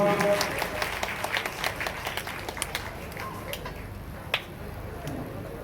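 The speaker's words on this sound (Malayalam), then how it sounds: "നല്ലൊരു കൈയടി നമ്മുടെ കലാകാരന്മാർക്ക് കൊടുക്കാം" An audience applauds Chavittu Nadakam artists at a live performance, with dense clapping loud at first and gradually thinning and fading, plus a few scattered sharp claps and faint voices in the background.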